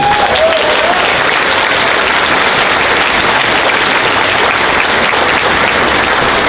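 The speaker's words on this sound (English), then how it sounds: "Round of applause for them, everybody." A large crowd at a PAX South 2017 gaming convention panel applauds steadily, a dense wash of clapping that holds at full strength throughout without pause.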